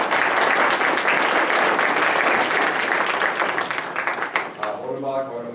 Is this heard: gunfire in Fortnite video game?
no